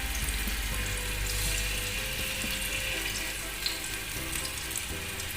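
Chicken pieces laid into hot oil on a flat tawa for an orange chicken dish give off a steady, loud, continuous sizzle with a hissing wash throughout, and no voices are heard.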